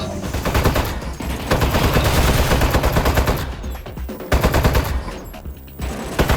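Rapid automatic turret gunfire from the video game Aperture Desk Job rattles in loud, dense bursts, broken by a couple of short pauses.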